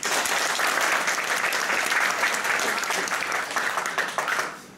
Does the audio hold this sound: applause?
yes